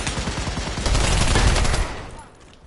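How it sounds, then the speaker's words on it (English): Rapid automatic gunfire in the Pavlov VR game, a loud close burst of many shots that builds, holds for about a second, then cuts off and fades. "Why is he shooting people when he's fucking innocent?"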